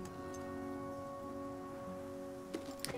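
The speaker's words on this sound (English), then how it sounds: "And I know it's raining, which is usually a bad thing." Steady rainfall hiss in the video game The Flame in the Flood, with a constant tonal drone underneath, plus a couple of brief louder taps near the end.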